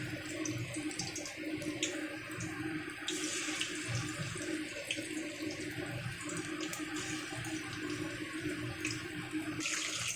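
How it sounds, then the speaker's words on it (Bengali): Slices of pointed gourd fry in hot oil, giving a continuous hiss and sizzle that stays steady throughout with no talk. "এখন আমি তেলের উপরে একটা একটা করে পটল দিয়ে দিচ্ছি।"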